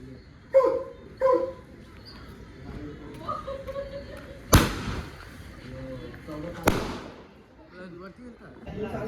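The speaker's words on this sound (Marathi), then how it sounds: "बघा कसे फटाके वाजवतो" Two sharp firecracker bangs burst a couple of seconds apart at a birthday celebration, with dog barks and people talking around them.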